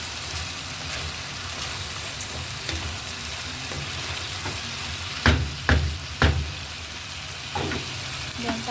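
Glutinous rice mixed with regular rice is stirred in a pot for arroz caldo, giving a soft, steady scraping hiss broken by a few sharp spoon knocks against the pot.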